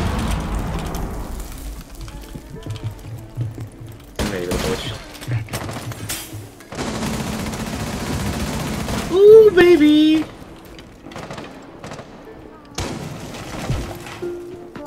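Rapid video game gunfire from an SMG-style tactical shooter, bursts of automatic shots recurring throughout, loud and close, with players talking over the shooting.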